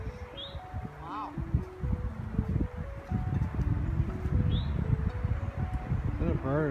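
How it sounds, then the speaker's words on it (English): A few brief, high bird whistles chirp in the background while people talk outdoors in a cemetery over a breezy rustle. "Is that a bird or somebody whistling? That's a bird."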